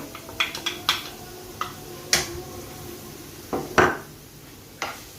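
Boiled chicken pieces dropped into a pan: scattered light clinks and taps of a spoon on cookware, close and sparse, with quiet room sound between them and no speech.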